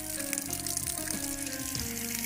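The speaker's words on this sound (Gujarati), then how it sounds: "કોઈ પાણીની લાઈનનો વાલ લીકેજ છે." Water gushing steadily from a leaking valve on a water supply line, a continuous broadband rushing hiss that stays loud and even throughout, with no talking.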